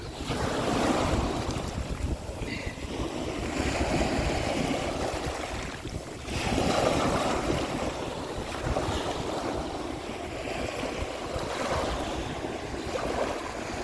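Ocean waves on the north coast shore, a continuous loud rushing wash with surges and gusting wind buffeting the microphone, no talk.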